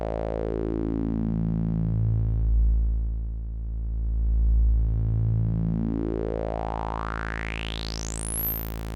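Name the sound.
Audiothingies MicroMonsta synth filter with resonance at full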